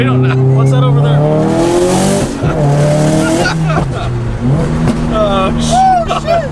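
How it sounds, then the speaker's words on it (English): A turbocharged car revs hard nearby, its engine note climbing and falling repeatedly while a loud external wastegate hisses and chatters between pulls; people talk over the engine noise. "The external wastegate is super loud."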